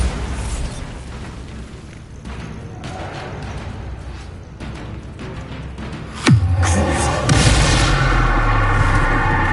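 A Bombarda blast spell from Hogwarts Legacy goes off with one sharp, loud boom that rolls into a long, rumbling aftermath over steady background game noise, with no speech.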